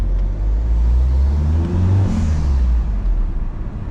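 A Peugeot RCZ HDi diesel engine with a homemade cold air intake rumbles low and accelerates, its deep growl rising in pitch, loud and close, with a faint whooshing air noise over it.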